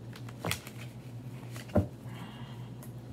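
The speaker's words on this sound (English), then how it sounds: "Shuffling." Tarot cards being shuffled by hand, two soft riffling bursts close by over a faint steady hum, with quiet gaps between them.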